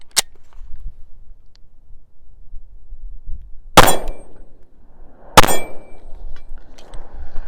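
Pistol shots from a Sig P320X Carry firing +P ammunition strike a steel popper target, giving three sharp metallic clangs spaced a couple of seconds apart with short ringing tails over quiet outdoor background.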